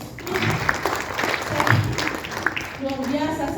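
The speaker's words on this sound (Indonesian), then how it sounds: "aplaus dulu dong." A large seminar audience of about 2,500 people claps in a dense, continuous wash of applause, with cheering voices mixed in.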